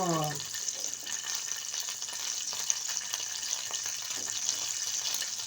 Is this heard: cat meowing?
no